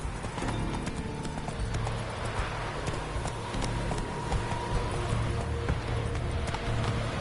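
Roach, the horse in The Witcher 3, gallops with continuous rhythmic hoofbeats, close and steady, over ambient game sound with no speech.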